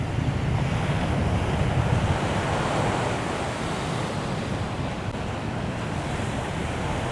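Strong wind roars across the microphone at a windy Aruba kitesurfing beach, with surf crashing steadily underneath. The noise is loud, continuous and close, and no one speaks.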